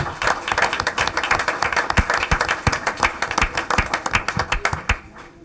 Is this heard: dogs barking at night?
no